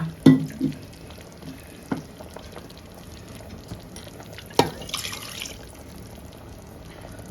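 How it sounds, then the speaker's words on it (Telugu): Water poured into a pot of homemade masala chicken curry made with country-style and broiler chicken, a soft wet pouring and sloshing texture with a couple of sharp clinks from the pot, fairly quiet and close, with no talking. "అలాగే కొన్ని వాటర్ కూడా వేసుకొని నీట్గా కలిపేసుకోవాలి"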